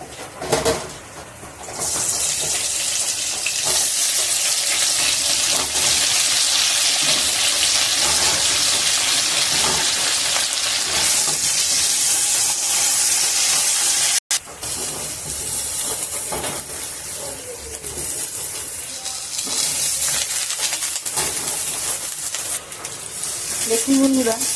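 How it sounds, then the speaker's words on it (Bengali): Brinjal pieces frying in hot oil, with potatoes fried first in the same oil, produce a loud, dense, continuous sizzle. It briefly drops out midway, then resumes just as strongly. "আবারও এই তেলে আমি বেগুনগুলোও ভেজে নেব"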